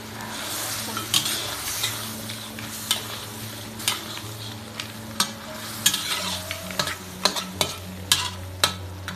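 A crab is stir-fried with onion and chili in chili-paste sauce. The sizzling is close and continuous, with sharp utensil clacks and scrapes against the pan at an irregular rhythm and no voices.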